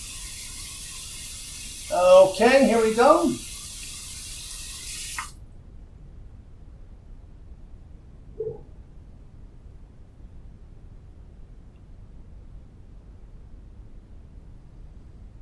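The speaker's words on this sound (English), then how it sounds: "We'll run this under some cold water." An alum block held under a cold running tap, the water gushing steadily for a few seconds, with a short spoken remark over the start of the flow.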